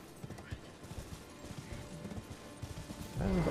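Horse hooves clip-clopping at a steady trot in the video game Elden Ring, fairly faint and rhythmic beneath a low ambient bed, with a louder rush of sound rising at the end.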